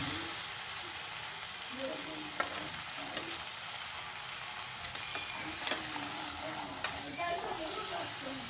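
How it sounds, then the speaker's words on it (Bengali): Spice masala for a sweet pumpkin curry fries in a pan while being stirred, a steady close sizzle broken by repeated scraping and clicking of a spoon. "আবারও ভালো করে নাড়িয়ে চাড়িয়ে মশলাটা কষিয়ে নেব।"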